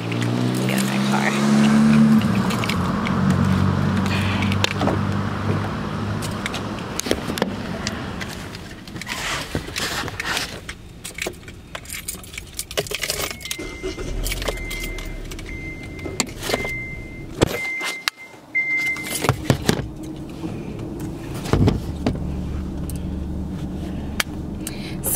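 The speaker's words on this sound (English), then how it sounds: "get in my car." Someone getting into a car, with the thuds and rustles of entering, an electric window motor whirring, and a steady interior hum, all close by, with faint voices in the background.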